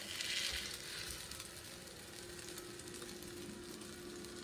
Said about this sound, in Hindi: 30 से 40 सेकंड एक साइड कुक करेंगे और फिर इसको पलट लेंगे